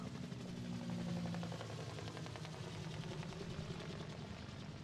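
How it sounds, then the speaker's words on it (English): Helicopter in the video game Contagion VR: Outbreak, a steady low rotor drone hanging overhead at moderate level with faint engine rumble, continuous throughout with no talking. "Well, I hear a helicopter."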